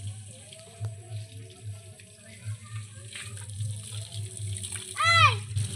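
Water runs and splashes while a vehicle is washed for Vishwakarma Puja, a steady outdoor flow with splatter. Voices chatter over it, including a child's.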